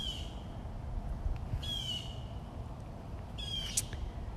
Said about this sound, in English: Even those noisy old birds aren't waking you up.